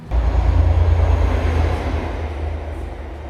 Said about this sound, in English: What you just heard right there was a train speeding by.